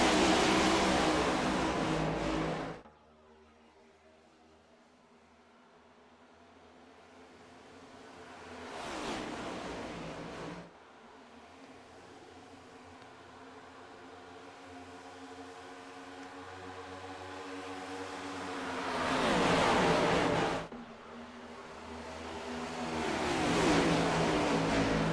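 Scrambler Series stock cars take the green flag at a Chicago oval, engines swelling and fading in broad roaring waves as the pack passes, loud at the start and again in two later surges; no talking.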